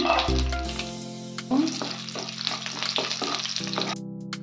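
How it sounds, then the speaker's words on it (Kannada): Mustard seeds spluttering and garlic frying in about three spoons of oil, a crackling sizzle with sharp pops and scraping under soft background music. "3 ಸ್ಪೂನಷ್ಟು ಆಯಿಲ್ ಹಾಕ್ಕೊಂಡಿದ್ದೀನಿ, ಅದಕ್ಕೆ ಒಂದು ಅರ್ಧ ಸ್ಪೂನಷ್ಟು ಸಾಸಿವೆ ಹಾಕ್ತೀನಿ. ಸಾಸಿವೆ ಸಿಡ್ತಾ ಇದ್ದಂಗೆ ಬೆಳ್ಳುಳ್ಳಿ ಹಾಕ್ಕೊತೀನಿ."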